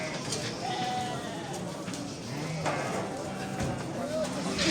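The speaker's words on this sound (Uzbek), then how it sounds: "Mana qo'ylar." Sheep bleat at a busy livestock bazaar, several wavering calls rising over constant crowd murmur and chatter, with people talking nearby.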